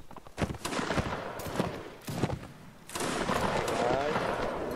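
Musket volleys crack and echo in a Mount and Blade: Napoleonic Wars line battle, with several sharp shots followed by a denser rolling volley, while a voice talks over the gunfire.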